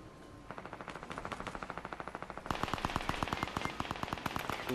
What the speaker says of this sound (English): Oh, I just heard shooting.